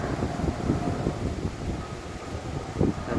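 Steady gusting wind buffets the microphone outdoors on a lake island, a low rumbling roar throughout with no talking.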